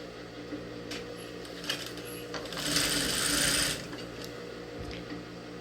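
A sewing machine stitches a blouse sleeve seam, running with a steady mechanical whir that swells louder for about a second mid-run, with small clicks and knocks around it and no talk.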